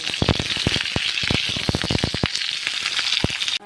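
Eggplant fries in hot oil in a wok: loud, close, dense crackling and spitting with rapid irregular pops over a continuous sizzle, stopping abruptly at the end.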